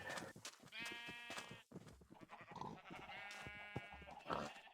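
Colored sheep bleating in Minecraft, a series of repeated wavering baa calls, close and clear, overlapping one another throughout.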